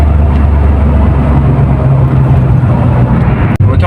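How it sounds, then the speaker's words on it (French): A Porsche 911 3.2 flat-six running on light throttle in second gear, a loud steady low engine drone heard close from inside the car, with no talk over it. "Là j'accélère pas vraiment fort sur un filet de gaz."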